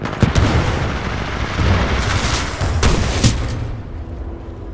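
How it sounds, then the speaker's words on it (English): Heavy gunfire in the video game Titanfall 2, several loud booming shots spaced irregularly over rumbling battle noise, then fading out. "Trying to shotgun out another."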